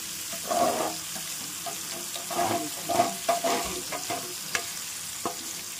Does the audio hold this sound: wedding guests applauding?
no